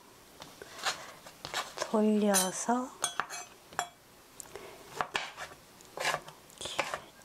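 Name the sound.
knife mincing tofu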